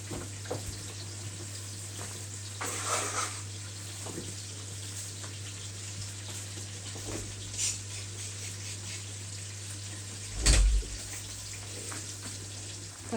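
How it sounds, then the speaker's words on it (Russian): Eggplant slices frying in a pan give a steady, even sizzle over a low constant hum, with a couple of soft clatters and one sharp knock near the end. Nobody speaks. "баклажаны уже жарятся"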